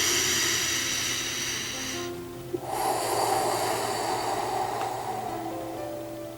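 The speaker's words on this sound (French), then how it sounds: "Le fait de pouvoir respirer comme ça." A slow, deep breath during a calming meditation session, a long airy inhale followed by a fuller exhale, close and loud with a steady low hum underneath and no speech.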